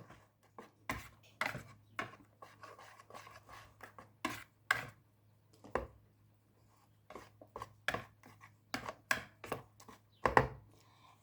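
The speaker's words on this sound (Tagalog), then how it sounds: "I just continue whisking until it will mix" Whisking banana bread batter ingredients with flour in a bowl, irregular sharp taps and scrapes of the whisk against the bowl, close and fairly quiet.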